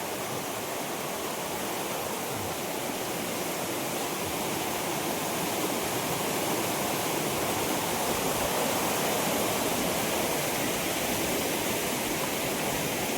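Steady, dense rushing of flowing water fills the scene, loud and unbroken throughout, like a fast stream or small cascade close by.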